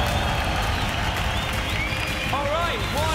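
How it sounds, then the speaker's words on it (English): A live crowd at an esports grand final in Lisbon claps and cheers for the Counter-Strike champions Astralis, a dense sustained wash of applause, with a host's voice and whistles rising over it. "Do clap them in, guys. Make some noise for Astralis."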